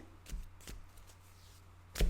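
Tarot cards shuffled by hand, a few soft papery riffling bursts spaced apart, with a louder card snap at the end, close and fairly quiet with no talk.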